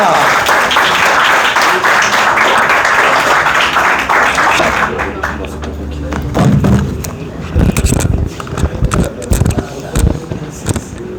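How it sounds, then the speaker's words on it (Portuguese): Audience applause in a Catholic catechism class, a dense burst of clapping with crowd noise that thins into scattered, sharper claps and some talk toward the end. "Uma salva de palmas"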